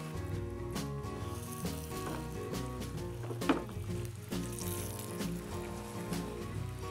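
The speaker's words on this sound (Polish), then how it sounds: "Karpia możemy już wrzucać na patelnię." Carp pieces hitting hot olive oil in a pan give a steady, close sizzle with crackling bursts and small pops, running continuously throughout with no talk.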